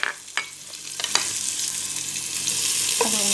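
Chopped onions hit hot olive oil in a pan, a few clinks and stirring scrapes giving way to a steadily building sizzle that grows louder and fuller, close with no voices.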